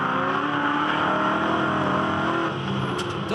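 A V8 ute race car engine roars loudly on track at Winton Motor Raceway, a sustained close, heavy drone with a slight shift in pitch under acceleration near the end.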